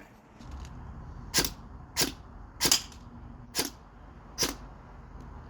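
Five sharp gunshot cracks fired at an already broken pumpkin outdoors, spaced under a second apart, fairly loud against low background noise with no talking.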